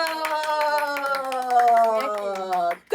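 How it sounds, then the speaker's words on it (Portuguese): Rapid clapping welcomes a guest onto a podcast, mixed with a long, wavering tonal sound resembling a cheering voice, before a brief drop and a sharp resumption. "Recebam com a salva de palmas Yali Macedo!"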